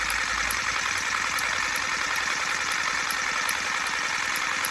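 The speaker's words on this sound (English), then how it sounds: "you can hear the ball bearing rattling up and down inside it" Paint shaker machine rattling the ball bearing inside a spray paint can: a dense, continuous mechanical rattle and hum, loud and steady throughout with no pauses.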